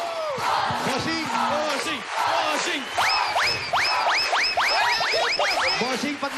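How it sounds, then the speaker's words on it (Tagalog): A studio audience at a live variety show claps and shouts loudly in rising, whooping bursts with crowd noise throughout, alongside excited voices. "Palakpakan na may kasamang sigawan!"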